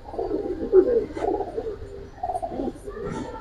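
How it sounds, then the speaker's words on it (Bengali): A black Gorra pigeon of a flying breed coos in low, soft, repeated murmurs at close range, the calls running on for several seconds. "পুতুল কালো গররা আর কি, যেটারে বলে এক কথায়"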